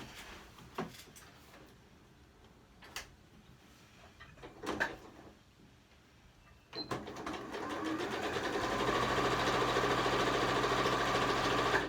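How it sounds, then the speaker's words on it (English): A sewing machine runs a half-inch French seam down a pillowcase. Handling clicks and light knocks come first, then the motor starts and keeps up a steady, fairly loud hum to the end. "we are going to sew a 1/2 inch seam down the seams that we just sewed"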